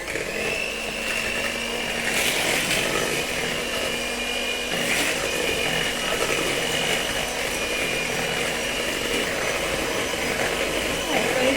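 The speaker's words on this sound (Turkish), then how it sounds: "Sadece karışacak kadar hani çalıştıracağım mikseri." An electric hand mixer beats chocolate and banana cake batter with eggs, a loud, continuous motor whine held steady for over eleven seconds close to the microphone.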